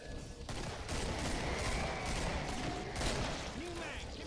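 Rapid 9mm pistol fire in the co-op shooter Killing Floor cracks out in quick repeated bursts, layered with chaotic game noise and players talking over it.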